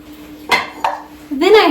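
Ceramic bowls knock and clink against each other as they are handled in a kitchen cabinet, two sharp close knocks followed by a longer scraping clatter, with no talking.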